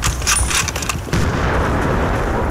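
Loud, dense gunfire and booming battle noise from Battlefield Bad Company 2, a few sharp shots at first, then a continuous rumbling wash of combat.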